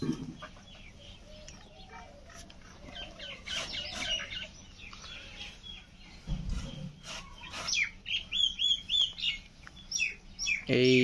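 Birds in a loft that holds about thirty large pigeons call with scattered chirps and clucks, growing busier and louder toward the end.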